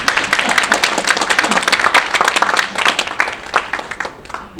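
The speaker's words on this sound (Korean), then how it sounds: "이럴 때 박수 한번 쳐주시면 돼요." A seminar audience claps together at a business breakfast forum lecture, dense and fairly loud, steady for several seconds before thinning out near the end.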